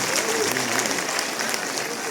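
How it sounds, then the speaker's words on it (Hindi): A crowd at a political event in Jalaun claps together for the leaders, producing dense, steady, loud applause that fills the whole moment without a break. "एक बार दोनों तालियों के गड़ाड़ से मोदी योगी को आशीर्वाद देते हैं।"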